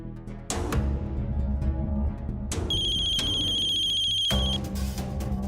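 A home landline telephone rings at night, a loud electronic ringtone repeating in bursts over a low background hum, with no one speaking.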